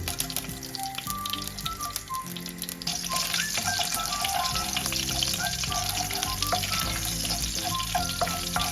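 Annatto oil fries in a pan for kare-kare with a dense, steady sizzle that intensifies partway through, while music plays underneath.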